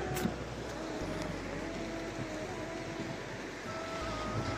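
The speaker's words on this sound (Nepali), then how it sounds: "माथि चाहिँ गाडी हिँडिरहेको छ" Vehicles drive along a road above a rocky river gorge, their traffic noise blending into a steady, loud wash of flowing water and wind that holds evenly for the whole stretch.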